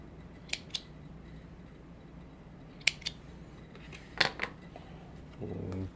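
Scissors snip through fabric during a sewing session: several crisp, close cuts come in small clusters over quiet room tone, followed by a soft rustle at the end.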